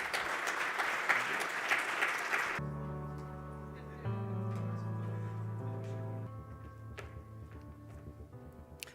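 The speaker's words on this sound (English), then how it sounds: "Round of applause." A conference audience at a green hydrogen event in Namibia applauds a panel in a burst of dense, broad clapping that stops abruptly after a couple of seconds, giving way to sustained musical tones.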